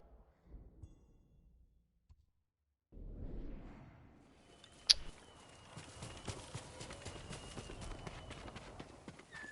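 A horse in the game Ghost of Tsushima starts trotting after a short quiet stretch, its hoofbeats turning into a quick clip-clop gallop. A sharp thud is heard near the start of the run.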